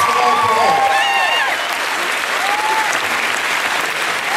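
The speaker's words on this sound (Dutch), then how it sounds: "graag een applaus voor uzelf, het publiek" Loud, sustained applause from a theatre audience at a musical's final performance, dense clapping continuing steadily with a few voices and whistles rising above it.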